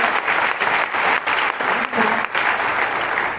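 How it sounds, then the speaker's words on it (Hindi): Enthusiastic audience applause at a Vestige marketing seminar in Delhi, dense and steady with a few brief dips, loud and close throughout, with no talking over it. "जोरदार तालियां से मंच पर जोरदार तालियां"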